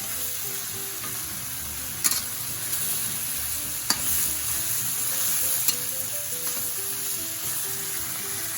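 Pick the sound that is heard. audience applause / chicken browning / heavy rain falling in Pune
chicken browning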